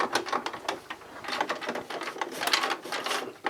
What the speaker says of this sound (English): Listen, something rattling about in there.